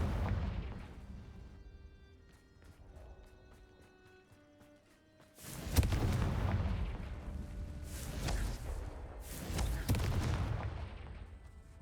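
Confringo fire spells cast in the video game Hogwarts Legacy, heard first as a quieter stretch of game sound with tonal chimes, then as loud, broad blasts of explosive roaring that rise and fall over several seconds.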